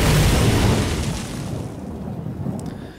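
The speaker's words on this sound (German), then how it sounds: "Okay, dann spielen wir jetzt erstmal die Heilige Nova." A Holy Nova spell goes off in the Hearthstone card game: a loud, full burst that swells at once and then fades away over a few seconds, with no talk over it.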